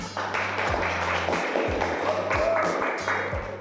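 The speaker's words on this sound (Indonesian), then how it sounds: "Terima kasih Mas Khairul, beri tepuk tangan." Scattered clapping from children in a classroom, light taps repeating at an uneven pace over a steady background hum, fairly soft and close.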